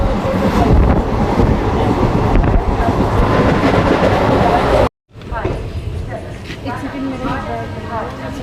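The Vibhuti Express runs along the line through Uttar Pradesh, Bihar and Jharkhand, a steady loud roar of the moving train that cuts out briefly, then returns with rattling wagon noise.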